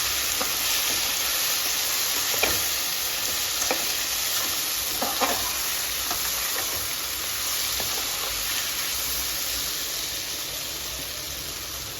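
Tempering for Gujarati vaghareli khichdi, with turmeric added, sizzles steadily and loudly in a pan while a spoon scrapes through it in occasional light strokes.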